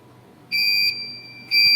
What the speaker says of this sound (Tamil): இப்போ உங்களுக்கு எம்டி அலாரம் வரும்.